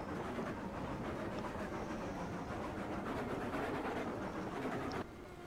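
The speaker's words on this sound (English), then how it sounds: "I got this train coming down the grade into the unloading platform to unload these logs." A log-hauling train in Railroads Online rolls down a grade toward an unloading platform. It makes a steady, loud rumble with rhythmic rail clatter that drops off abruptly near the end.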